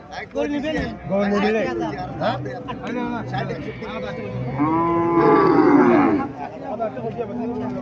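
Mooing of a lean Sahiwal cow rises over steady human chatter at a busy cattle market in Cumilla, with one long, strong call in the middle of the scene.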